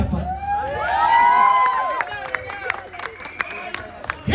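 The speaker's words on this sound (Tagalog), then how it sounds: "Kaya naman sumigaw, paglakasan niyo ang palakpak" A crowd at a poetry performance by the Batangas poet in Rome, Italy claps and cheers with whoops, steady and fairly close, while a voice talks over the noise.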